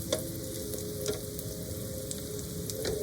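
Salmon frying in a pan of butter and olive oil, a continuous close crackling sizzle with occasional louder pops and a faint steady tone running underneath, no talking.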